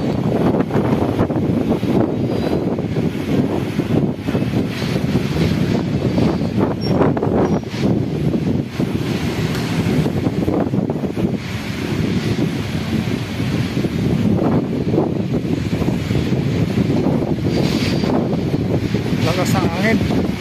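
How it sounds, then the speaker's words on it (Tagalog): Strong wind buffets a microphone outdoors in Baliwag, Bulacan, producing a loud, continuous low rumble that fills the whole stretch with uneven gusts, with talk mixed in beneath it. "Lakas ang hangin"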